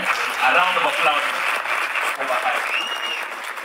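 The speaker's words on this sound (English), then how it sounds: "ladies and gentlemen, a round of applause" Audience applause fills the room at the launch of Bahati's Empire, a Kenyan reality show on Netflix: dense, steady clapping held close and loud for nearly four seconds, easing slightly toward the end.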